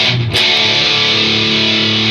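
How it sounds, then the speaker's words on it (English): An electric guitar played straight through a Moen Violent Metal distortion pedal, with no reverb, rings out as one loud, heavily distorted sustained chord after a brief picked attack. "it's strictly this pedal that you're hearing. I'm not running my Rocktron, you know, for reverb, nothing. It's straight distortion."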